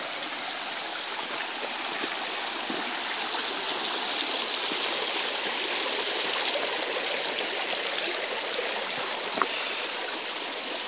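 Creek water rushes steadily and close by as a rider crosses the creek on a trail in Sooke, a continuous bright flowing hiss with a few faint knocks and no talking.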